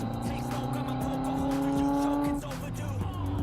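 A car revs and drives past with a tonal engine note that rises and then falls away, heard over steady road and cabin noise from inside another vehicle.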